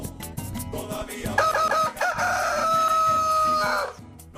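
A rooster gives one long, loud cock-a-doodle-doo that rises and holds for a couple of seconds, laid over rhythmic backing music as a broadcast radio or television jingle.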